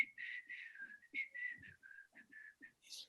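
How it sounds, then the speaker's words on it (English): A person whistles while climbing on Everest, giving a clear, close run of short melodic notes in a bouncy rhythm with brief breaths between phrases. "Look at me, whistle as I climb."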